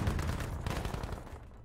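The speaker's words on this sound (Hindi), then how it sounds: "चारों तरफ से गोलियां चल रही मेरे ऊपर" Gunfire crackling from all sides in the Battlefield V video game, a dense continuous barrage of shots with no pauses, loud and enveloping.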